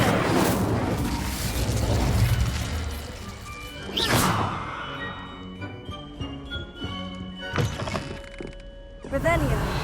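An Incendio fire spell cast in the Hogwarts Legacy game bursts as a sharp whooshing blast around the four-second mark. It sits among other spell impacts, booms and game effects, with voices speaking throughout.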